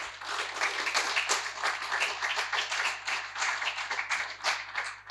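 Audience applause for two guests, a champion veteran and her companion, on a talk show set: steady, even clapping from a sizable crowd, moderately distant and continuous for the whole stretch.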